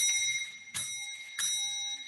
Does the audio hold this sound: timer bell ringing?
yes